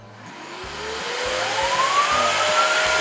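A Samsung electric turbo brush vacuum switching on and spinning up, a steady whirring whine rising in pitch over a few seconds, with a faint rhythmic ticking underneath, close and alone.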